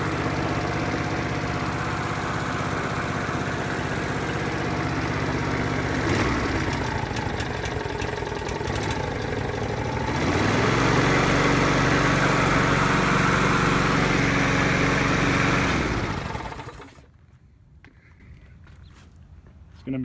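A repowered Yard Machines lawnmower engine idles close by with a steady, even chugging drone that rises slightly in level midway, then drops away abruptly near the end as the engine is shut off.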